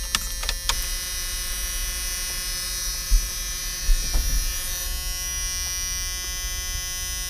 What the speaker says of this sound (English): Sorry ahead of time about the beep.